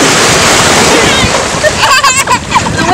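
Strong ocean waves at a beach wash and splash loudly and continuously up close, with a churning surge of water toward the end.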